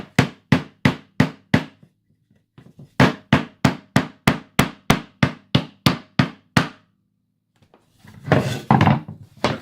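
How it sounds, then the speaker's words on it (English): A hammer made of paper drives a nail into a piece of wood with a run of sharp, evenly spaced strikes, a brief pause, then another steady series of blows followed by some handling noise. "now we're going to test the hammer"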